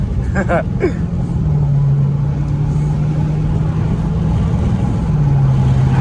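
An SRT 392 V8 engine revs and holds a steady high drone while warming up the tires, loud and close inside the car, with brief squealing near the start.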